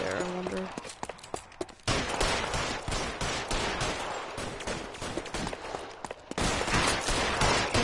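Gunfire in the video game L.A. Noire, with sustained bursts of loud shots and dense firefight noise layered over game speech.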